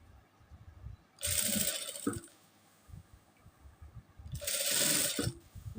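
A sewing machine stitches a seam on a small boy's kurta in two separate bursts of close, busy mechanical whirring and rattling, with quieter handling noises in between.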